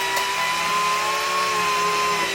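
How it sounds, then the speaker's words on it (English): A power drill drives a screw at an angle into a wooden wall stud, a steady whining motor tone held for about two seconds, close and fairly loud, with no talk. "And that actually screwed into the stud here."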